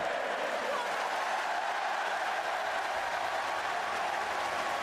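Wrestling arena crowd at an event in Italy, a steady roaring wash of cheering and applause filling the whole stretch at moderate level with no breaks.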